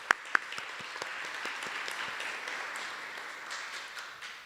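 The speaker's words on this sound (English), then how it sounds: "I want us to give a round of applause to the Deanery for leading us" Audience applause at a faculty research day session, a steady wash of many hands clapping that starts with a couple of sharp claps, then holds at an even level throughout without talk.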